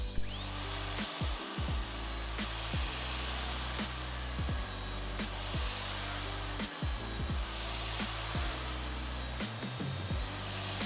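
A handheld router cutting wood joints for an outdoor garden sofa, its high motor whine rising and falling in repeated passes with bursts of rough cutting and clunks between, loud and close, no talking.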